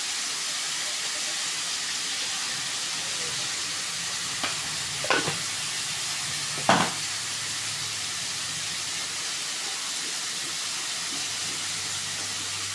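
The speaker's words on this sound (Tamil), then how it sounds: "நல்லா கரண்டி வச்சு நல்லா இது மாதிரி கிளறி விட்டுக்கோங்க" Radish and egg stir-fry being stirred with a ladle in a pan gives a steady sizzling hiss, with a few brief scraping strokes of the ladle in the middle.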